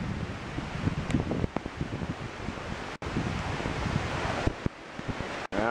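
Gusty tropical storm wind from Isaias buffets the microphone in a yard, a loud rushing roar with rustling leaves and sharp bumps and dropouts, no speech.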